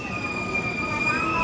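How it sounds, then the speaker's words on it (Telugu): A double-decker passenger train rolls along the tracks at a station platform, giving a steady close rumble with sustained high-pitched wheel squeal and no talk over it. "ఇదండి డబుల్ డెక్కర్ ట్రైన్."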